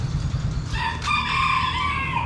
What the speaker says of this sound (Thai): เดี๋ยวก็ร้องให้ฟัง